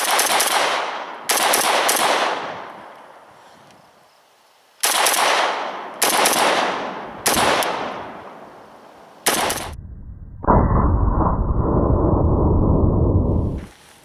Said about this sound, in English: I'm going to shoot the rest of this mag